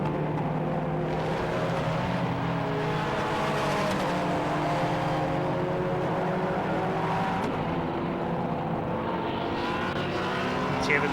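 A BMW 1M race car lapping a circuit, its engine rising and falling through gear changes, with other race cars passing nearby; no voices.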